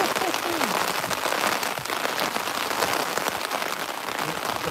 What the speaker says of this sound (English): going to be struggling to hear me talk now with this rain like this, isn't it?